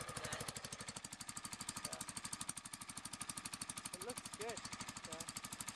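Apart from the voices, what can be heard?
Exmark lawn mower engine idling after cold start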